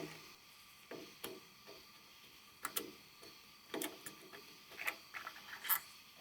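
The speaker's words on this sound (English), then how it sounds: "All we've got to do is remove this flathead screw from the tang of the" A screwdriver backs a flathead screw out of the tang of a Marlin rifle buttstock, making faint, irregular small clicks and ticks at close range in a quiet room.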